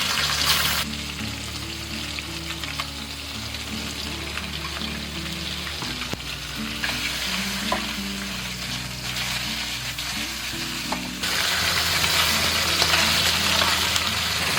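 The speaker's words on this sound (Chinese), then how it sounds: "接下来我们就把这个鱼煎一煎，这个葱姜不要放下去了啊" Wufish (午鱼) frying in leftover oil in a pan after tofu was browned, a steady crackling sizzle with a low background hum, growing louder toward the end, no talk.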